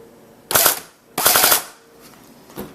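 An AGM M14 airsoft rifle with a new motor fires two short full-auto bursts of rapid clattering shots, close and loud, followed by a faint single click.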